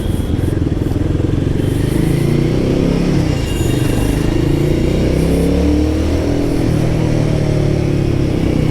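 A Royal Enfield Guerrilla 450 motorcycle is ridden hard, its engine droning loud and close with rising and falling pitch through gear changes, wind roar constant over the whole stretch.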